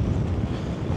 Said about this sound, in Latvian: Vējš pūš, bet labs.